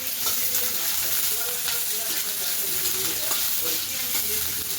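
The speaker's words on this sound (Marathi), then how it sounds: "कांदे टाकून घेऊ आपण कांदे छान असे परतून घ्यायचे आपल्याला" Onions sizzle in hot oil as they are sautéed for a pasta dish, a close, steady, hissing fry with faint crackles throughout and no voices.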